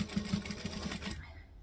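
A sewing machine top-stitches a tote bag with a quick run of close, rapid mechanical ticks that stop abruptly after about a second, leaving near silence.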